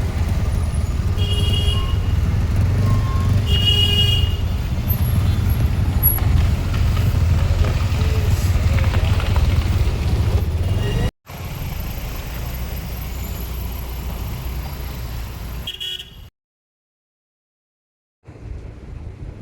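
A traffic jam on the Ishwar Gupta bridge in heavy rain: a steady rumble of idling cars, buses and trucks with a few short horn blasts, then the sound abruptly drops out and returns.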